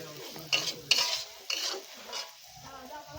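Hilsa fish curry with spices being sautéed in a pan: several quick, bright scrapes and stirring strokes over a faint sizzle, close by, separated by short pauses.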